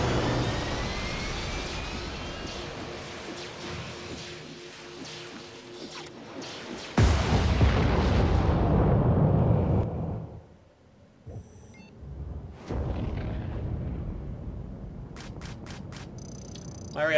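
Ordnance explosions in a sci-fi combat video game: a long rushing rumble swells, then a sharp loud blast hits and roars for a few seconds before cutting off, followed by scattered electronic blips and a second burst.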